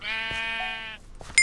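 Sheep bleating in the Minecraft video game during a red versus blue challenge on the Mineplex server: one sustained, nasal bleat close up, followed by brief faint clicks.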